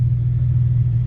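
A Nissan 350Z with a VHR engine swap rumbles at low pitch while driving, its steady drone carrying a faint uneven pulsing from the sputter.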